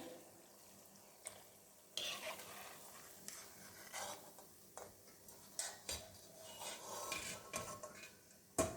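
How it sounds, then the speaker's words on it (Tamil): Raw rice murukku frying in hot oil gives a steady, fairly quiet sizzle, broken by occasional clinks and scrapes from a utensil stirring or turning the pieces in the pan. "எண்ணெய் சத்தம் குறைஞ்சு போச்சுங்க."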